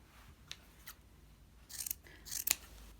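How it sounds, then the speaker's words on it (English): Sharp scissor snips trimming a yarn pom-pom, a few quiet isolated cuts early, then a brighter, louder cluster of quick snips toward the end, close up with no talking. "This is where we have to start doing our trimming."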